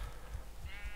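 Sheep bleating in the Minecraft video game, a short wavering bleat near the end over a low rumbling background, faint.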